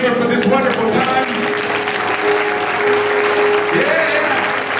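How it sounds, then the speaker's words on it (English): Audience applauding a chamber event in a hall, steady dense clapping for about five seconds with a faint voice and a sustained tone running underneath. "Can we applaud the chamber for this wonderful time?"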